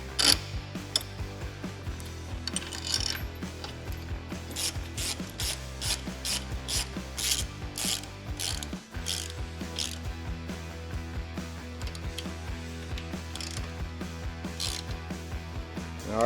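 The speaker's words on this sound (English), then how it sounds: "we'll go ahead and install the foot peg with the provided hardware" Ratchet wrench tightening the provided hardware on a stainless passenger foot peg on a Harley-Davidson, steady rapid clicking close up, continuous for the whole stretch with brief pauses between bursts.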